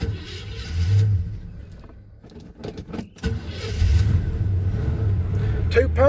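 A 1978 Chevy C10 truck with a new motor cranks and fires up, then settles into a low, rumbling idle, with a person talking over parts of the engine noise.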